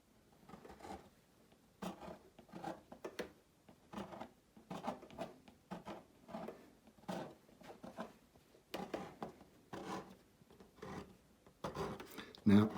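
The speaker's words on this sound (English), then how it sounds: "Now, I've got wet paint at the bottom, and I've scraped downwards." Wet watercolour paint scraped firmly downward across paper to shape rocks, a series of short rasping strokes repeating in an uneven rhythm, close and fairly quiet.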